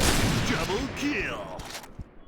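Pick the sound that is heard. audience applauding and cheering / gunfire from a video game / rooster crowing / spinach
gunfire from a video game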